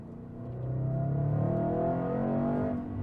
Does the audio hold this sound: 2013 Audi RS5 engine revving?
yes